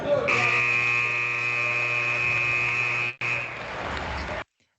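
A final buzzer closing a women's basketball podcast episode: one loud, sustained electronic drone that runs for over four seconds, dips once briefly, then stops abruptly, with no talk.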